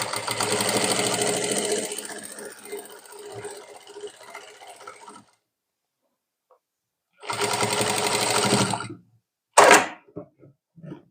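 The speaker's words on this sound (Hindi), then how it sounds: "और अभी हमें इलास्टिक को खींचते हुए सिलाई करनी है।" Sewing machine stitching stretched elastic onto saree fabric, running in two loud steady bursts separated by a pause, followed by a brief sharp clatter and a few small clicks.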